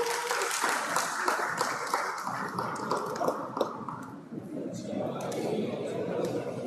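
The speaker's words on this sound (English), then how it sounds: "Guys, Kia team, can we please clap for your team?" Crowd applause for the Kia team at a Hyundai townhall, a room full of hands clapping for several seconds with chatter and talk mixed in, easing to a lighter patter toward the end.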